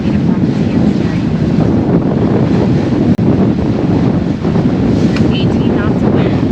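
Strong wind buffets the microphone in a steady, loud roar while a sailboat heels along at sea in about 18 knots of breeze, with a brief dropout midway and faint water rush underneath.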